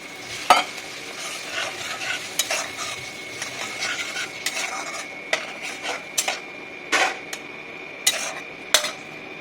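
Bottle gourd coated in spice paste and turmeric stir-fried in a pan, a steady sizzle under repeated sharp scrapes and clinks of a spatula against the metal pan.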